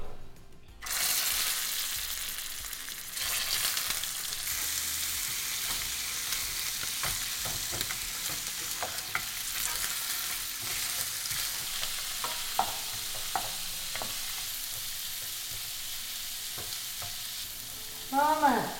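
Pork ribs fry in dark caramelized sugar in a wok, making a loud continuous sizzle that sets in abruptly and runs throughout, with scattered scraping stir strokes and light clatter toward the end.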